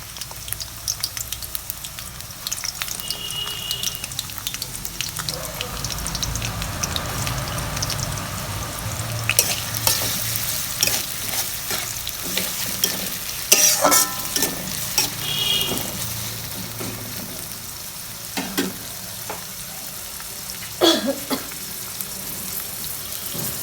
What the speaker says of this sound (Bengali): তেল গরম হয়েছে, পেঁয়াজ দিয়ে দিতেছি।